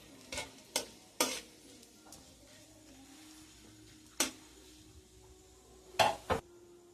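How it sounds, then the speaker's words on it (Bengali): Cumin seeds, a bay leaf and one dry red chilli hit hot oil in a wok, giving a soft sizzle broken by several sharp metallic clanks and scrapes of a spatula on the pan. "আমি কড়াতে জিরে ফোড়ন দিয়ে দিচ্ছি। দিয়ে দিলাম তেজপাতা, দিয়ে দিলাম একটা শুকনো লঙ্কা।"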